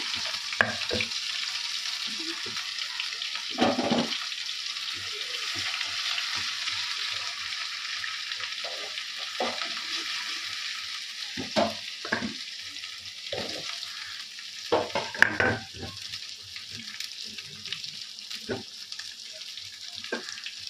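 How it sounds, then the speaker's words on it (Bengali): Grated ginger and garlic frying in hot oil with nearly fried potatoes, giving a steady close sizzle broken by repeated scraping stirs of the pan, with no one speaking. "আদা রসুনটা ঘষে রেখেছি, তেলের উপর দিয়ে দেবো"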